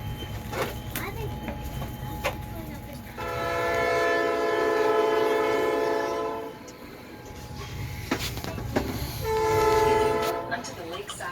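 A train on the North Shore Scenic Railroad, heard from a dome car, gives two loud sustained horn blasts over a steady rumble of the rolling cars, with a few sharp clanks and passengers' voices in between.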